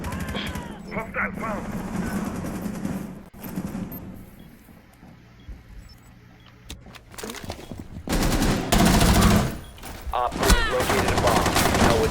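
Automatic gunfire bursts in the tactical shooter Rainbow Six Siege, with loud rapid volleys late on and scattered shots earlier, while a voice talks over the quieter stretches.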